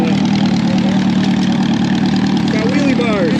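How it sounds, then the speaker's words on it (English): An old Sears lawnmower tractor fitted with a motorcycle engine, with wheelie bars and a hand clutch, idles steadily and loud at a tractor show gas-up, with crowd chatter and voices in the background. "Got a motorcycle engine in it."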